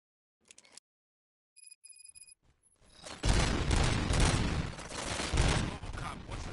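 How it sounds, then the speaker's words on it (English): Gunfire in the Robocop Rogue City video game, a few sparse clicks and electronic beeps, then a loud, dense burst of shooting and explosions that keeps going to the end. "Gunshots?"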